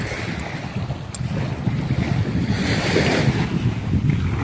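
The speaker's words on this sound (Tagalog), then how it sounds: "Medyo maalon ngayon." Waves wash steadily on a choppy sea, a close, continuous rushing surf mixed with gusty wind buffeting the microphone, with no voices.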